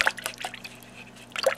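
A glue-covered paintbrush dipped into a water container during watercolor paper jewelry work gives a few short, quiet liquid drips and splashes, with a small trickle at the start and again near the end, and no talking.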